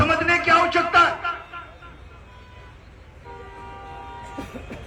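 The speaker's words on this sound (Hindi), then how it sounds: "भैया ये गाड़ी वाले हॉर्न जो दे रहे हैं वो बंद कर दे प्लीज" Car horns honk repeatedly amid a loud crowd at a farmers' gathering in Maksudanpura, India, with people talking, then longer steady horn tones sound further off as the crowd noise drops.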